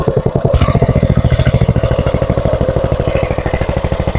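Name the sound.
engine of a palm plantation hose sprayer machine running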